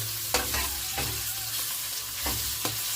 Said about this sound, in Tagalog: Igisa lang po natin siya ng igisa.